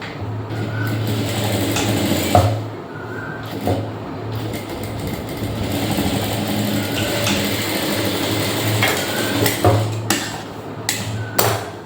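A sewing machine stitches blouse fabric in a close rapid mechanical whir, in bursts separated by brief pauses, with a few sharp clicks and thumps near the end.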